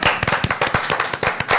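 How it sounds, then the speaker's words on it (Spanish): Close, dense clapping from a studio audience on a Mexican talk segment about Celaya cajeta, a brisk, steady patter of many hands filling the whole moment without voices. "Aplauso a nuestro público."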